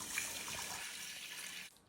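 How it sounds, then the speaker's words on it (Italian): Water pours steadily into a pot for cooking rice for Sicilian arancini, a close, bright rushing splash that runs evenly for under two seconds and then stops abruptly. "Mettiamo l'acqua."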